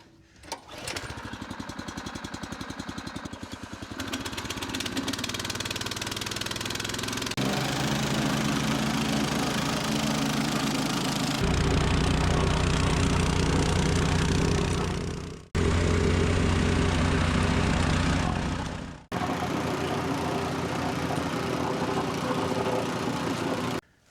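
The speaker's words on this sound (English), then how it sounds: "I don't know if this compactor is actually going to do much, but I'm going to give it a shot." Petrol plate compactor engine running on frozen dirt ground, a loud, close, steady drone with shifting pitch and throttle changes, a brief dip midway, continuing throughout with no talk.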